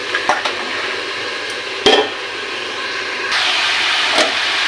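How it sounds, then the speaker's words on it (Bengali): Watermelon rind curry being stirred in a pan, with scraping strokes, a couple of sharp utensil knocks and a steady sizzling hiss that grows stronger toward the end, with no voices. "ঢাকাটা সরিয়ে নিয়ে একটু নাড়িয়ে দিলাম।"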